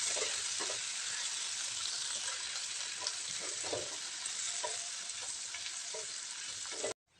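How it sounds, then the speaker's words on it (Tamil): Curry leaves sauté in a hot pan for a tamarind chutney, giving a steady, close, hissing sizzle with faint stirring scrapes that cuts off abruptly near the end. "சேர்த்துட்டு இதை ஒரு 2 நிமிஷத்துக்கு நல்லா வதக்கி விட்டுக்கலாம்"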